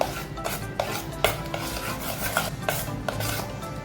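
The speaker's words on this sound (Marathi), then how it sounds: "मिक्स करून घेऊया" Mango cake batter of semolina, mango pulp and ghee is mixed in a bowl, a spoon scraping and clinking against the sides in an uneven rhythm of soft strokes and a few sharper taps, close up with no talking.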